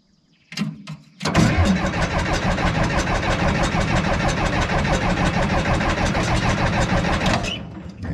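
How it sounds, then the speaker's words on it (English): A diesel engine on a farm pond dam project cranks with a couple of brief tries, then a rapid rhythmic cranking that catches and runs for several seconds before stopping, loud and close, with no talk. "I think a lot of times it needs a little bit of cranking just to get the fuel there"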